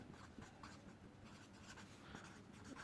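A pen scratches across paper while someone writes out a maths answer, with soft continuous scribbling strokes at a low level and no talk.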